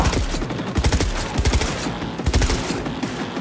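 Rapid bursts of automatic gunfire from a weapon in Cyberpunk 2077 crackle loudly and close, in dense uneven volleys throughout.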